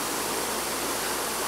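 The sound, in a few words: homemade evaporative cooler atomizing water past fan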